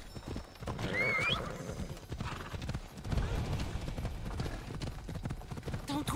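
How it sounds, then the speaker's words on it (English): Horse hooves clip-clop steadily alongside a whinny in the Assassin's Creed Odyssey video game, set in a village, with game voices and other sounds mixed in around them. "Oh, there's a horse right here."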